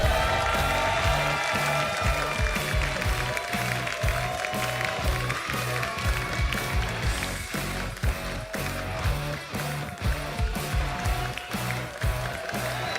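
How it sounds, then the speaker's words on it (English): Audience applause and cheering in an arena at a Summoners War esports event, the SWC2023 Americas Cup, steady and loud throughout under pounding rhythmic event music. "Keep the applause going for TRUEWHALE"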